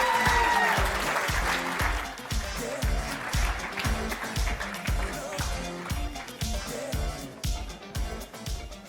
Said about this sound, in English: Can we get another round of applause for him?